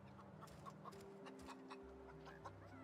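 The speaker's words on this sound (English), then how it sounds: "Chicken." A chicken clucks in the video game The Outer Worlds, with several short, quiet clucks scattered over a low, faint in-game ambience and no talking.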